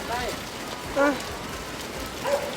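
Rain falls steadily on an outdoor surface, making a soft continuous hiss with no clear individual drops, while a person talks over it.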